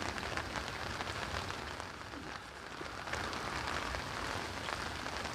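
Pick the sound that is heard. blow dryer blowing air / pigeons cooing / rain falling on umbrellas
rain falling on umbrellas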